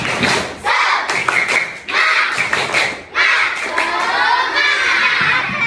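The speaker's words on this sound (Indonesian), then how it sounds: "Oke, tepuk semangat." Young participants at a public speaking practice session clap a rhythmic group cheer in loud, close patterned bursts, with shouting and cheering voices chanting along between the clap phrases.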